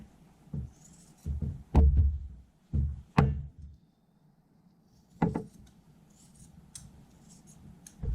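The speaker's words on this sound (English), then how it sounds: "we're just going to trim off the excess fabric" Scissors snip away excess fabric from a machine-stitched quilt binding, a series of close, crisp cuts in short clusters separated by quiet pauses, followed by faint light clicks.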